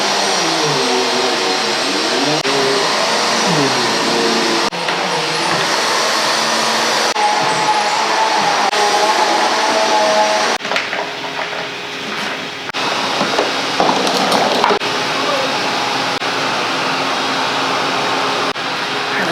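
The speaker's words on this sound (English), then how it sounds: "grab the vacuum, and we'll do the floor." A vacuum cleaner runs continuously over a household floor, a steady loud whirring drone with shifting pitch as it is pushed back and forth, a busier rattling stretch midway, and no talk.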